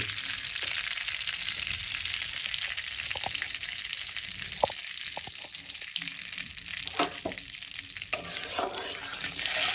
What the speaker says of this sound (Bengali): মেল্ট হয়ে গেছে, বাটারটা কি সুন্দর দেখুন, গরম হয়ে গেছে।